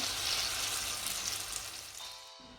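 Zucchini fritters (kabak mücver) sizzle in oil in a home kitchen pan, cooked in batches, a continuous close crackling fry that thins and drops out near the end.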